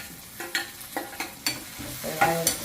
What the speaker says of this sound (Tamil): வெங்காயம் பொரிஞ்சு கொண்டு வருகிறது